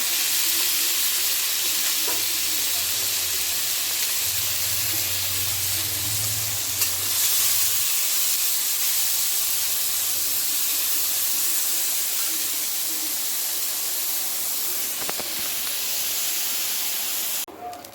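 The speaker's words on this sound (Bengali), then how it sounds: "তেলটা গরম হয়ে গেছে, এবার চিংড়ি মাছগুলো দিয়ে দিচ্ছি। এগুলো হালকা তেলে একটু ফ্রাই করে দেবো" Prawns fry lightly in hot oil for a bottle gourd and prawn dish, giving a steady, close sizzling hiss that runs throughout, with a soft bump near the end.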